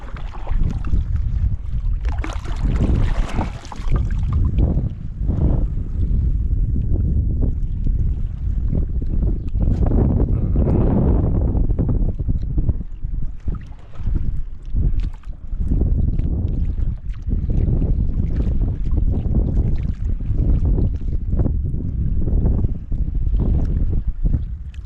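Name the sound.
strong wind during a storm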